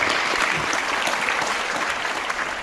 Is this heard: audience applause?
yes